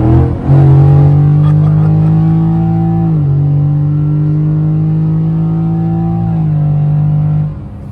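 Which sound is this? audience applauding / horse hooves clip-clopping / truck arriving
truck arriving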